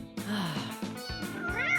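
Kittens meow in several short, rising cries close by, one after another in quick succession, with a little background noise between them.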